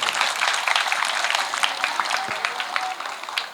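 An audience at a primary school cultural festival breaks into steady applause, a dense wash of many hands clapping at moderate loudness with a faint crowd murmur beneath.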